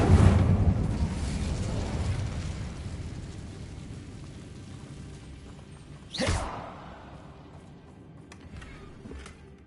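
An Incendio fire spell in Hogwarts Legacy bursts with a loud whooshing flare that fades into a crackling roar, then a sharp second flash cuts through and decays into a fainter rumble.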